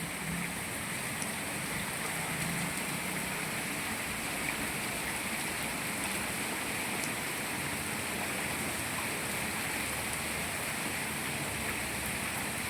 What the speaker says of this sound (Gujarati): વાહ ભાઈ વાહ વરસાદની મોજો